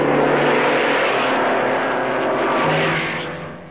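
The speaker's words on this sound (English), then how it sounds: "Dr. Giuseppe Farina, relaxed and polished, leads the race." A 1950 Formula One Alfa Romeo racing car at the British Grand Prix, its engine a loud, steady roar held close throughout before easing off slightly at the end, with no voices.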